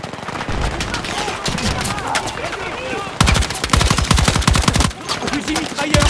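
Machine gun fire in Battlefield 6, loud and close, with sustained rapid bursts and dense overlapping volleys, a brief dip near the end before firing resumes, and voices calling out among the shots.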